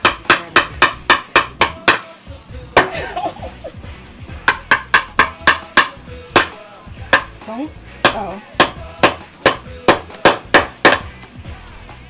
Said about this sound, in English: And that's how you hammer a nail.